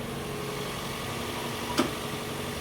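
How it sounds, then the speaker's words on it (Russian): A car engine idles evenly with a smooth, steady low hum and one brief faint click partway through. "Никаких лишних звуков, но чисто вот красиво работает двигатель."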